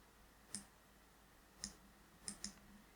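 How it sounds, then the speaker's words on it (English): Computer mouse clicks, sharp and close, a single click followed by another, then a quick pair of clicks forming a double click, against a quiet room. "let's just double click on it"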